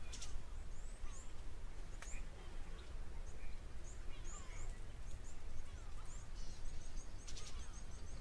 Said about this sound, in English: certainly the sounds of a few birds in the background